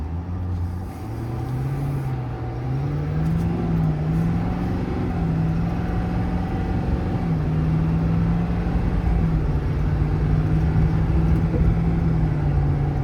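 A 2022 Ford F-550 4WD diesel work truck with a crane bed cruises down the road, its steady low engine drone and road rumble holding even and continuous throughout, with no talking.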